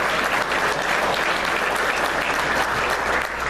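Loud, continuous crowd applause for the freshmen at a 2014 PT football banquet, thick steady clapping filling the room from start to finish.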